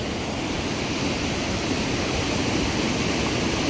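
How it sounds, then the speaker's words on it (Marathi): Steady, dense roar of rushing water, like a waterfall heard from nearby, constant and unbroken with no voices. "इथे ना खाली धबधबा आहे जबरदस्त खतरनाक धबधबा आहे"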